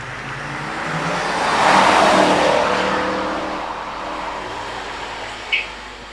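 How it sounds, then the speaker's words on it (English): A BMW E36 M3 convertible rally car, car 129, accelerates hard on a hillclimb course, its engine note swelling loud as it nears around two seconds and then fading steadily into the distance, with no talk. "Paul Lanza Dragasanu in the BMW E36 M3 convertible."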